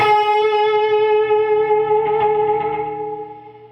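A sustained distorted electric guitar note rings with echo, then fades and is clipped off quickly near the end as a noise gate pedal shuts it down.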